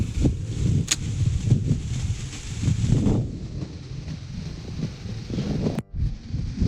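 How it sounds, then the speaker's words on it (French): Wind blows outdoors, buffeting the microphone in uneven low gusts and rumbles that rise and fall, with a short sharp dropout near the end and no talking. "Par contre il y a un peu de vent, je suis désolé,"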